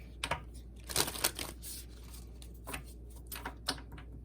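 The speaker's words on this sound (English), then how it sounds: "One more shuffle." Tarot cards are shuffled by hand in a few short bursts of crisp riffling and rubbing, close and fairly quiet, with irregular pauses between strokes and no talking.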